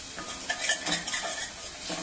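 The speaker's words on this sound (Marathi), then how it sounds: "आणि चण्याचं पीठ छानसं असं परतून घेऊया" Gram flour for a spicy misal is stirred and roasted in a pan on low heat, with soft repeated scraping and clinks of a spoon against metal over a faint sizzle, close by.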